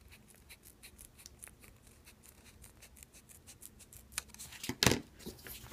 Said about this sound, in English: So using a trimming scissor, we can try to emulate that look.